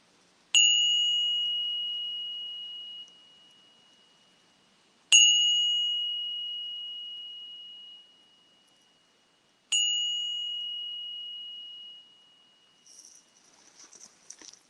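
A meditation bell struck three times at even intervals, each clear ring sustaining and fading slowly to its last vibration in near silence, followed by faint rustling.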